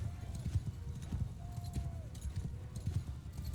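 Horses in a medieval video game battle with the Khuzait Khanate trot and clip-clop in an uneven, busy rhythm of hoofbeats, close and continuous, with a brief whinny-like tone and no talking.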